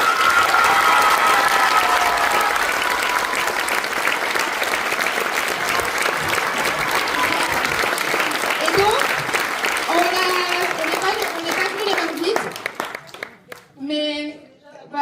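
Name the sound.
audience applause after a stage show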